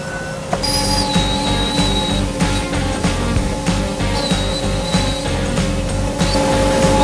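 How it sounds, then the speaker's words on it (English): A CNC router drives a golden boy bit through BAMX at 500 inches a minute, cutting out Skeeball tables, giving a loud continuous grinding roar with steady high whining tones and no pauses. "We have this golden boy bit going 500 inches a minute through some BAMX, cutting out some Skeeball tables."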